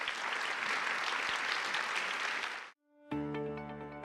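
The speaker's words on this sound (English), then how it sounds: "Let's give them a round of applause." A round of applause from an audience at a Houston Hispanic Chamber of Commerce event, dense steady clapping that cuts off abruptly, followed by a brief musical tone.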